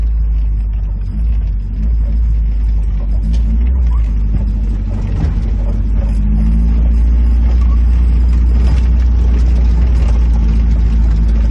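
Inside a boxy older Volkswagen Voyage while it is driving, a steady low engine drone and road rumble hold throughout at a constant loud level, with no clear speech.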